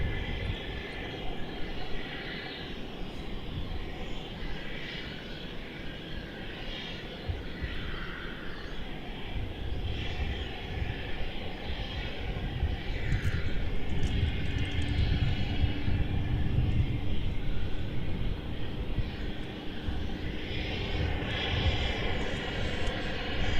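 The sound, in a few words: airliner at Melbourne Airport departing on long flight to LA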